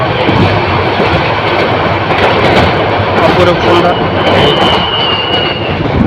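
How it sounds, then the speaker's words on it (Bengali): The Mohanagar Provati Express, a Dhaka to Chattogram intercity train, runs fast. From inside, a loud, continuous rumble and rush of wheels and wind fills the whole stretch while a voice speaks over it. "তো ট্রেন ছুটে চলছে দ্রুত গতিতে"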